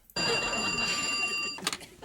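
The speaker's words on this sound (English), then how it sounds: "the phone rings in the hallway" A telephone rings in a hallway in the sitcom Boy Meets World, a steady electronic ring sounding continuously at moderate level for most of the moment before cutting off, followed by a brief rustle.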